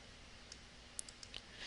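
Computer mouse clicking while working in Microsoft Word 2013: a handful of quiet, sharp, isolated clicks spaced unevenly over faint steady background hiss.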